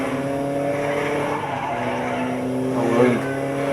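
A motorcycle engine in a Tekken 7 video game cutscene, a steady droning hum that swells briefly near the end, with faint voices over it.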